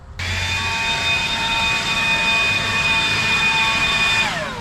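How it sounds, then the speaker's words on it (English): Battery-powered leaf blower running steadily at close range, a loud continuous rushing whine with a high pitched motor tone holding level for several seconds before winding down at the end. "Look at me, blowing the leaves, right? Blowing the leaves, I got my battery."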